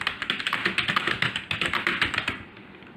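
Quick, even keystrokes on a computer keyboard during English typing practice. Sharp clicks come in a fast, steady rhythm close to the mic, then stop abruptly near the end.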